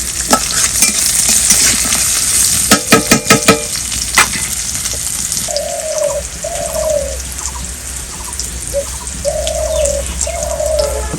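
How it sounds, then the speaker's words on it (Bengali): Chili, onion and garlic fry in a pan with a steady close sizzle and a few quick stirring scrapes, while a dove coos repeatedly in the background. "এখন আমি ভাজি করবো দেখা যাচ্ছে এটা মরিচ পেঁয়াজ রসুন দিয়েছি"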